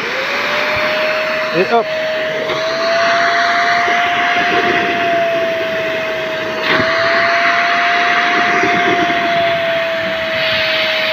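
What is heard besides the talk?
Silvercrest fabric cleaner running, sucking up clean water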